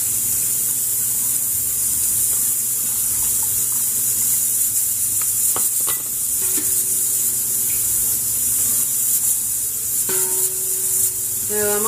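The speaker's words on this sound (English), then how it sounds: "I'm going to start adding my brine" Brine poured into jars of pickled asparagus, a steady hissing liquid stream that runs without pause, close and fairly loud, with a few light glass clinks near the end.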